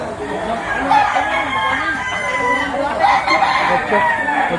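A gamefowl rooster offered for sale at a market in Lipa, Batangas crows repeatedly at close range, its calls rising and falling over a steady background of other crowing birds and someone speaking.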